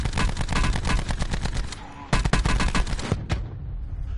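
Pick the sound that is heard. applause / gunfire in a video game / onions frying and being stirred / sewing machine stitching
gunfire in a video game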